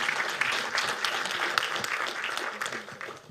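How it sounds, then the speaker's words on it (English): An audience at a livestreamed conference applauds a speaker with steady, moderately loud clapping that fills the room and tapers slightly toward the end. "give another warm round of applause to Joao"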